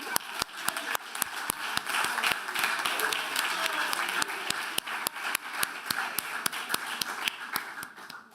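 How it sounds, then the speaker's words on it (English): Audience applause at a graduation ceremony, a full crowd clapping steadily and loudly for several seconds with sharp individual claps standing out. "Let's clap for him again."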